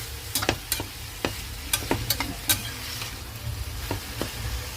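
Broccoli and onion leaves fry in a pan with a soft steady sizzle, punctuated by sharp scrapes and clacks of a utensil stirring at irregular intervals, close and without talk.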